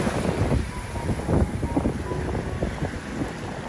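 Rough sea churns at the water's edge on a fossil-hunting shore, a broad, steady wash of surf and wind buffeting the microphone, with no voices.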